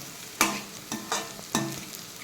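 Beetroot frying in oil in a pan, a soft background sizzle broken by four sharp stirring scrapes or clacks at uneven intervals, fairly close and with no voices.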